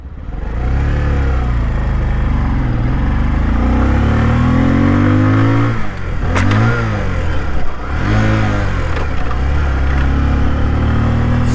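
A Bajaj CT 125X 125cc commuter motorcycle engine accelerates in first gear, a loud, close, steady drone that rises in pitch, dips briefly around the middle and climbs again, with no talking.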